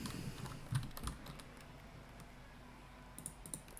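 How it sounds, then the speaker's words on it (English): Computer keyboard keys tapped in quick, irregular bursts during a speedrun of The Long Dark, close and fairly faint, with a few louder clicks and no talking. "Pressed all 4 WSAD keys at the same time."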